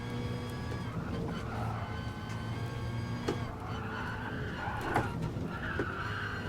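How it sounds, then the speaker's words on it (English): Race car in Gran Turismo Sport on the Dragon Tail seaside circuit, engine droning steadily with tire skidding and a brief scrape or knock as it clips a wall, loud and continuous. "I just clipped that wall"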